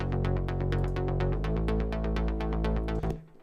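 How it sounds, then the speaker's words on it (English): Minimoog top bass line layered over a sub bass line: a rapid, pulsing synth bass riff of repeated plucked notes over a deep sustained low end. The texture is loud and dense and shifts pitch partway before cutting off near the end. "top bass line, which is made as well with the Mini Moog"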